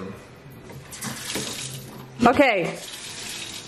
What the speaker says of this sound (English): No more using the fly swatter to turn the water back on and off.